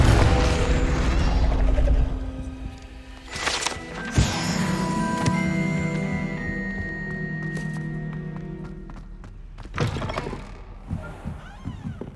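Confringo blasting spell in Hogwarts Legacy on PS5: a heavy whooshing burst and thud near the start, then crackling impacts and ringing magical tones, with another sharp blast later, all without speech.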